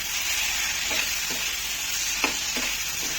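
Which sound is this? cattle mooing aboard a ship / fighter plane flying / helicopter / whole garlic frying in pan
whole garlic frying in pan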